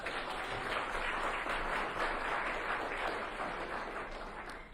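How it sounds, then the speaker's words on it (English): A pitch event audience applauds, producing a steady, dense wash of clapping heard from a distance, even in level and slowly tapering at the end. "And clap for that."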